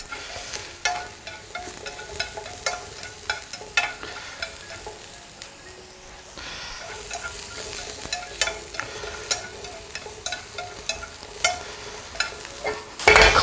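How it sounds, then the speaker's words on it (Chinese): Button mushrooms fry in a little oil in a pan, giving a steady close sizzle with scattered crackles and pops and a short quieter stretch midway. "我们稍微在锅里喷少许的油，下入口蘑煎一煎。"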